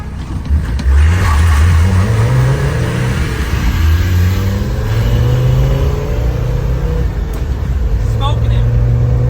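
Land Rover Defender 300Tdi and Td5 diesels accelerating side by side in a drag race, the engines droning and climbing in pitch through gear changes, loud and close, heard from inside one vehicle.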